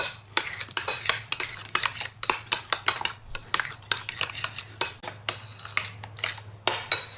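A utensil stirs and mixes chicken macaroni salad with black pepper and sugar in a bowl, giving rapid, uneven clinks and scrapes against the bowl that sound close up, over a faint low hum.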